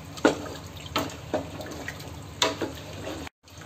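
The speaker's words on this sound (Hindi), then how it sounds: "तो 1 लीटर पानी डालना है" Water poured into a pressure cooker while making Hyderabadi chakna, heard as a few short, splashy pours spaced apart, fairly close and moderately loud, with no talk over them.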